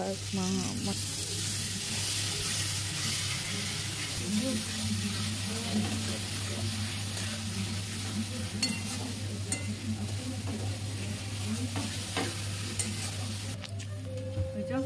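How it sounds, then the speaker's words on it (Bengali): Masala spices frying and being stirred in a pan while making chili paneer, a steady sizzle with scraping stirs, close and continuous, with a low steady hum underneath and faint voices at times. "মশলাটা ভালো করে কষে নিতে হবে"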